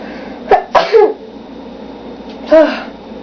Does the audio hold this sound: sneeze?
yes